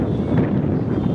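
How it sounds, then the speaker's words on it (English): Continuous wind rumbles and buffets against the microphone at a high viewpoint over Shravanabelagola, Karnataka, steady and fairly loud with no other clear sounds. "It's quite windy up here."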